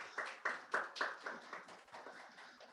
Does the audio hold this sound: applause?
yes